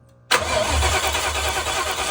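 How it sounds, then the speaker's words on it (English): A Cobra's engine turns over with a steady, fast cranking churn that begins abruptly and continues without catching, loud and close. "I'm gonna have Audrey try to crank the car."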